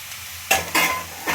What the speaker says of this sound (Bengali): এবার কেটে রাখা পেঁয়াজকলিগুলো আমি মিশিয়ে দিচ্ছি।